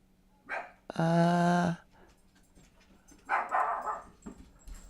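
Puppies let out one loud, sustained yelping bark, then softer whimpers and whines follow in short bursts close by.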